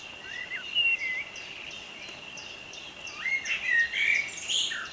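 A blackbird sings in short, thin chirping phrases at moderate distance, with a faint constant insect-like hiss underneath and the phrases growing busier toward the end.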